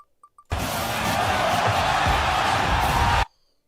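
A stock crowd-cheering effect played during a tournament stream bursts in abruptly as a loud, dense roar, holds steady for under three seconds, then cuts off sharply.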